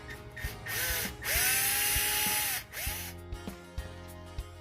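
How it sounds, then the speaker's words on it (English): A power drill bores a pilot hole in the rear hatch of a Toyota 4Runner, running in several loud, sustained bursts with rising and falling whine as it starts and stops, interspersed with short knocks and handling noises. "I'm going to drill the pilot hole first."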